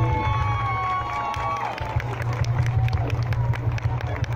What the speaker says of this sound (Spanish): Un fuerte aplauso para recibir a Vicente Fernández